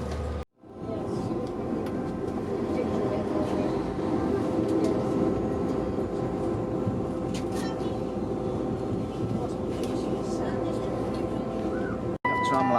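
Steady rumble of a train running on rails toward Sheffield, heard from inside the carriage, a continuous low drone with faint rattles and brief dips, no talk over it.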